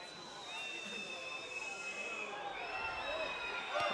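Italian crowd in a stadium during a women's rugby match between Italy and Ireland, a steady distant murmur and whistling swell of spectators as a penalty kick is lined up, with a commentator talking over it.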